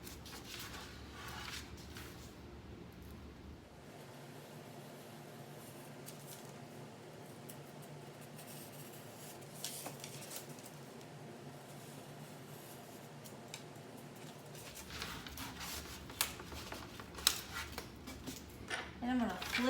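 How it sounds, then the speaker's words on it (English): An X-Acto knife draws through craft material laid on a cutting mat, giving faint, thin scraping and scratchy cuts with a few small clicks, close by and quiet. "I'm just going to take my X-Acto knife, put this under the little mat, and go all the way down till I can tell I'm touching that mat"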